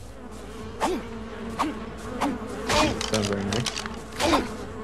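Poisonous bugs buzz in ARK: Survival Evolved gameplay, a series of droning, wavering insect hums passing close by, rising and fading several times while someone speaks briefly.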